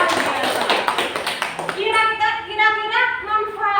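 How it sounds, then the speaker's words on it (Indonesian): A class of students claps for a classmate in a brief burst of hand claps that quickly gives way to someone speaking. "Tepuk tangan buat teman kalian."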